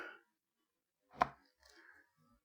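A knife cutting up nopales cactus pads, heard as one crisp, close chop followed by a couple of faint softer cuts in a quiet kitchen.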